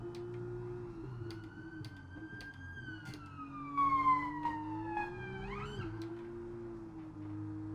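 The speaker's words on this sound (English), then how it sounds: "That's twice now an ambulance has just gone past." An ambulance siren passes at a distance, its wailing tone sliding slowly up and down over several seconds before dipping sharply, heard faintly above a steady low mechanical hum.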